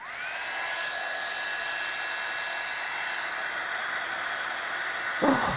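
Heat embossing tool blowing hot air onto embossing powder, a steady close whine and airy rush held for several seconds, then a brief louder disturbance at the end.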